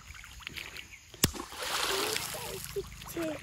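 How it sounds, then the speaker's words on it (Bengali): Water splashes and sloshes in a pond while people fish with a net, a sharp knock cutting in early and a rushing wash of spray building through the rest, with voices talking over it. "জল ছিটছে"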